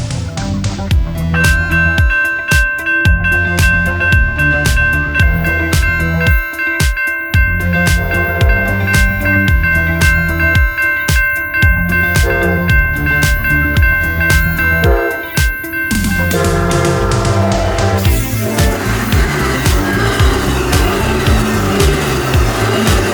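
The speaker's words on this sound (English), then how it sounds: "Amtrak 11 would pass the Elizabeth Street crossing in the warm, sunny, and clear sky" Amtrak 11 passenger train passing the Elizabeth Street crossing on a warm, clear day, with loud sustained horn chords and heavy rumble that shifts to a rougher roar as the train goes by.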